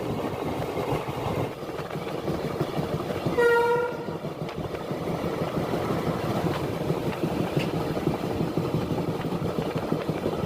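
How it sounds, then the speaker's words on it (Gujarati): A train rolls along the railway beneath the elevated Delhi Metro line, a steady loud rumble of wheels and carriages throughout, with a brief horn blast early on. "ટ્રેન પસાર થાય છે."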